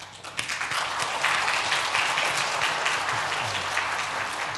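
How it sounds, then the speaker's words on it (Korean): A church congregation at a Sunday worship service applauds to welcome a new member, giving a sustained burst of clapping from many hands throughout. "자진해서 오신 고은선 성도님, 자리에서 일어나실 때 우리 박수로 환영하며 축복하겠습니다."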